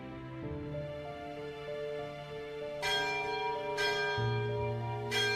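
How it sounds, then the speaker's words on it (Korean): Distant church bell ringing in slow, resonant strikes, each blooming into a long humming decay that overlaps the next, with three clear peals standing out over a soft sustained tone and no speech. "멀리서 종소리가 울렸다"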